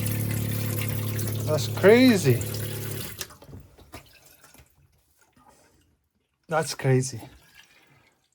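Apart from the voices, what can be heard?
water flowing from a boat's repaired water system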